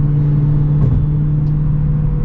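Supercharged Dodge Challenger Hellcat engine with an 8-speed automatic, a loud steady deep rumble that holds nearly constant throughout, close and alone with no talking.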